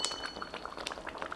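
Flattened rice and jaggery payasam with added water bubbles in a pot, a quick run of small popping bursts at a steady simmer, close and fairly quiet, with no voices.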